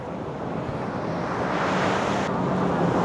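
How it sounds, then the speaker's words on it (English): Ocean surf on the shore near Nan'ao Island, Chaozhou, China, roaring steadily and close, with buffeting wind noise on the microphone and no speech. "I want to go jump in the waves."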